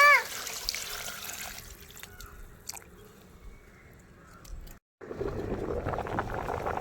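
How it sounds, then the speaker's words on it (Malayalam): Fresh water is poured into a pot of boiling tapioca after draining, with splashy gushing that fades, a brief silent break, then a louder, fuller pour. "വെള്ളം ഊറ്റി മാറ്റി അടുത്ത വെള്ളം ഒഴിക്കുവാണേ."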